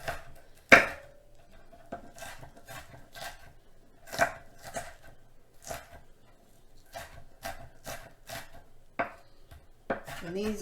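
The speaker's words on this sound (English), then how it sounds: "chop them up really good" Knife chopping burger ingredients on a cutting board, a steady series of crisp, close thuds with irregular pauses and one louder chop near the start.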